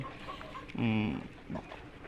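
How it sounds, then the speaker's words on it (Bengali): A tiger chicken in a farm room of about two hundred hens gives one short, fairly loud cluck midway, with quiet room noise around it. "এখানেও দুশোর মতো মুরগি আছে"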